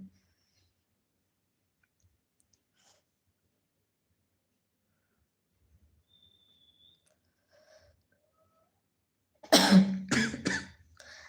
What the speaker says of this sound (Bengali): আজকে সত্যিই আমার ঠান্ডা লেগে যাবে, যে কাশি হচ্ছে।